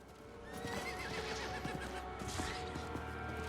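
A horse whinnies clearly in the Diablo IV video game, a drawn-out neigh with hoofbeat clip-clops underneath, near and steady over a dense game ambience with no talking.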